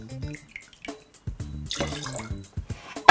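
Vodka and passionfruit liqueur are poured for a passion fruit martini, with short trickling glugs and drips of liquid splashing into a vessel, close and alone.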